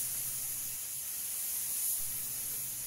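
Paint spray gun with a 1.8 tip laying a thick coat on a BMW E30 quarter panel, giving a steady, even hiss of air and spray throughout, with a faint low hum underneath.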